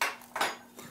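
A tablespoon clinks against a container while potassium humate is stirred into a litre of water: three short metallic taps in under a second, close and moderately loud.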